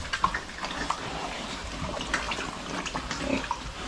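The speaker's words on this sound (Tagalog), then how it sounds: "At yung mga baboy natin, mga bata pa yan." Young pigs on a farm grunt and squeal faintly in short, irregular bursts over a soft wet, splashing background, with no one speaking.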